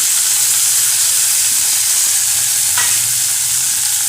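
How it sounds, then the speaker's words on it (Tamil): Curry leaves sautéing lightly in a pan for karuveppilai dosai, a steady, close, full sizzle and frying hiss running throughout with a faint stir partway, no speech. "ஜஸ்ட் இதை வந்து போட்டு லேசாக வந்து வதக்கி விட்டால் போதும்"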